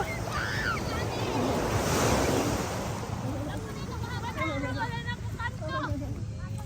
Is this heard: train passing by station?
no